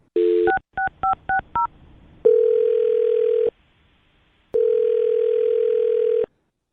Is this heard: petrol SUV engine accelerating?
no